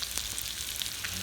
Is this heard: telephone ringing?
no